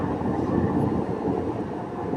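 Steady low rumble of a Budapest tram rolling along the rails through the suburbs, continuous and even, heard from inside with no voices.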